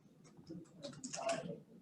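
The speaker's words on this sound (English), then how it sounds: "here you can start typing in a name" A name is typed on a computer keyboard, producing a quick, quiet patter of key clicks that build into a denser burst, soft and close.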